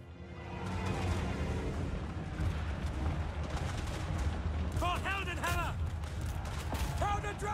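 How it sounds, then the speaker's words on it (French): Troops firing at bats in Total War Warhammer 3, a dense rattle of gunfire running continuously under steady game noise, with shrill creature cries breaking in near the end. "Ça fait quand même beaucoup de balles pour les chauves-souris."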